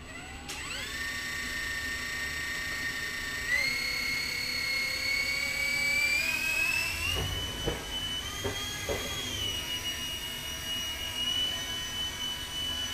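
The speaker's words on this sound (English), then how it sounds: "Now I'm gonna go play with my helicopter" A high-pitched whining motor runs steadily, its pitch rising and shifting as a small toy helicopter spins up and flies, with a few brief knocks midway.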